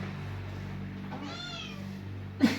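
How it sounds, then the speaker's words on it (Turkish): A domestic cat gives a single drawn-out meow at close range, rising and then falling, over a steady low indoor hum, followed by a brief soft bump at the end. "Deli bir kedimiz var değil mi?"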